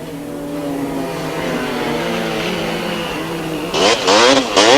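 A 250cc KTM motorcycle races at a grasstrack meeting. Its engine drones and rises in pitch as it passes, then ends in sharper, louder bursts of revving close by.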